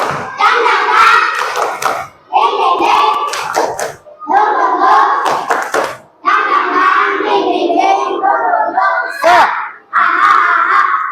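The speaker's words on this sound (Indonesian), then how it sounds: "Ayo, tepuk semangat baru." Schoolchildren in a classroom perform a rhythmic clapping chant as an ice-breaker, bursts of group clapping and chanted voices in repeated phrases separated by short pauses, loud and close.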